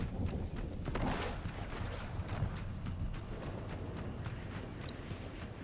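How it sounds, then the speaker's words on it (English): Footsteps in the video game Fortnite, a quick series of regular clicking steps over a loud rushing wind-like background, close and steady for several seconds. "Steps."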